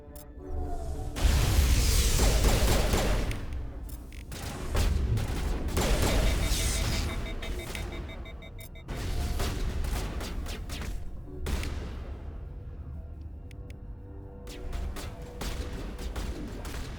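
Sustained Mass Effect video game gunfire in loud, dense volleys that pause briefly and start again, with sharp shots over a rumbling low layer.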